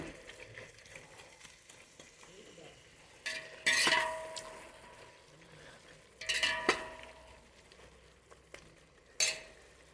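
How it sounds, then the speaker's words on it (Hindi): Kashmiri mutton biryani is stirred in a pan over high heat, with a soft sizzle under three distinct bursts of scraping and clinking from a spoon against the pan. "फिर इसको और थोड़ा देर चलाते रहिए। पूरा तेज़ रखिए"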